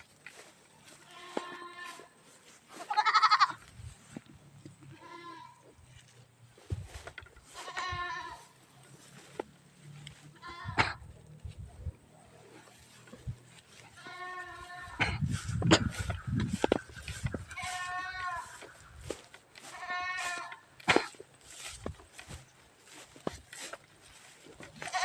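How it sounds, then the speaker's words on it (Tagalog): A young male goat bleats several times outdoors on a pasture, with short wavering calls spread across the clip, fairly close, alongside some faint rustling and background noise. "Ito po, lalaking kambing,"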